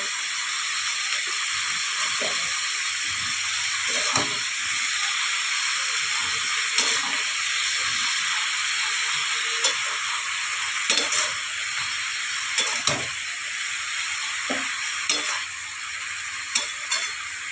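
Cabbage curry bubbles in a pan, a constant loud hissing simmer with soft intermittent stirring scrapes and taps throughout.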